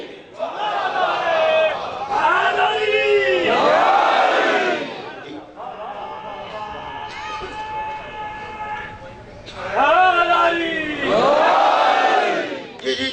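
Crowd at a Muharram gathering at Haidery Chowk, Rawalpindi, loudly chanting religious slogans in rising, sustained call-and-response waves, with a steady held tone between bursts.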